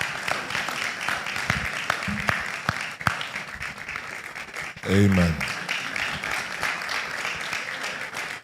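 Audience at a church leadership and ethics talk clapping in a steady, moderate wash of applause, with someone speaking briefly over it near the middle.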